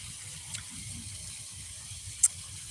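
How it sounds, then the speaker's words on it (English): Waterfall fountains run on a pond, giving a steady, soft wash of splashing water with a low rumble underneath, constant throughout with no voices. "Now they got the waterfalls and everything going"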